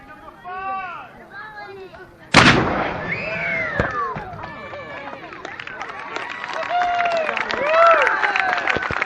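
A single loud blast from a militia firing its gun at a 2012 Delano reunion cracks out sharply amid ongoing crowd chatter, then rings briefly before the talk resumes.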